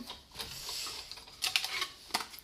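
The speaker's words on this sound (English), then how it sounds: "I'm going to run this through and cut my black circle out" A punch board cuts a circle out of black paper with short crisp clicks and papery crunches. A soft rustle comes first, then a cluster of sharp snaps near the end, with no talking.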